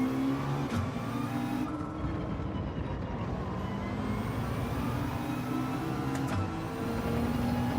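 A McLaren race car engine in Gran Turismo 7 drones steadily with rising and falling revs, a constant loud mechanical whine with shifting pitch throughout.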